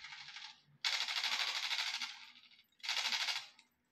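Rapid automatic gunfire from a mobile shooting game played on a Fossibot F102 smartphone, heard as three dense bursts, one short, one long and sustained, then another short one, loud and close with brief gaps between.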